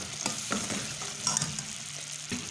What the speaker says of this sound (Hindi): इसको मुसलसल चम्मच हिलाते रहना है।